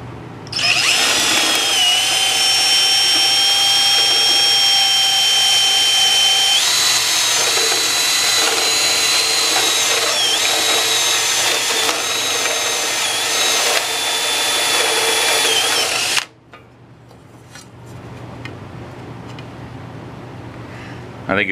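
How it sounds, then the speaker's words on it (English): A large step drill bores through aluminum, a loud, steady high-pitched grinding whine that runs continuously for about sixteen seconds, then cuts off abruptly, leaving faint quiet handling noise. "that large step drill takes such large chunks in cutting through the aluminum, it almost smears the metal more than it cuts it"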